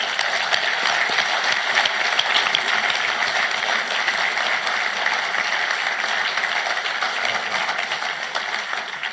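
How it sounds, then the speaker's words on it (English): Applause from the audience at a Queensland Labor conference, a dense, even clatter of many hands clapping continuously at moderate distance, with no voices over it. "Please give them a round of applause."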